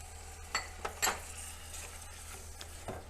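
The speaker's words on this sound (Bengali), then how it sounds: "টক দইটা দিয়ে হালকা নেড়ে চেড়ে মশলাটা আর একটু কষিয়ে নেব" Thick masala with beaten sour yogurt being stirred and fried in a pan, with a soft steady sizzle and a few scraping spoon strokes against the pan, fairly faint and without speech.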